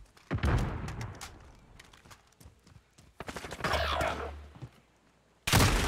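Gunfire in Call of Duty: Modern Warfare comes as scattered sharp shots and bursts, with a rumbling volley in the middle and a loud blast at the end, over faint game noise.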